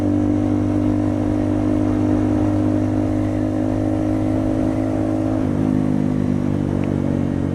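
A motorbike engine runs steadily and loudly close by while being ridden, holding a low drone with a noticeable shift in pitch partway through as the rider changes gear.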